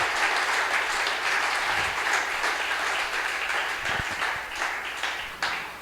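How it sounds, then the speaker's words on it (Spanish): A church congregation at a Spanish-speaking service claps together in a loud, sustained burst of applause that holds steady for several seconds, with a few sharper claps standing out near the end. "dele un fuerte aplauso al Señor."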